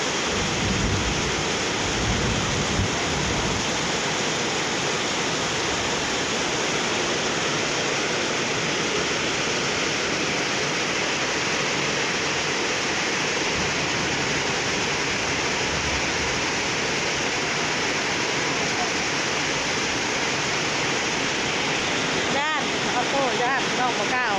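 Heavy rain pours during a strong storm, a loud, constant roar of falling water that stays dense and unbroken from start to finish.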